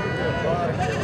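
A goat bleats at a livestock market, one short wavering call heard close up amid a loud, busy crowd with people talking.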